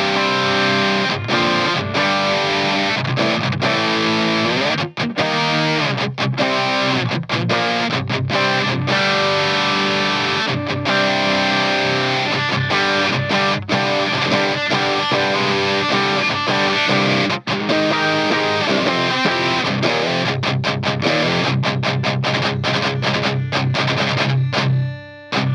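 An electric guitar played through a Digitech DF-7 Distortion Factory pedal rings out in loud, saturated, continuously played chords and riffs, heavily distorted and sustained throughout, without any talking.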